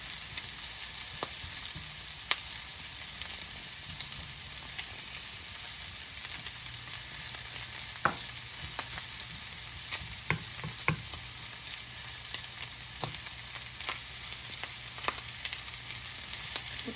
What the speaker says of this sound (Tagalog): Dito ko na i-ano itong saute itong ating onion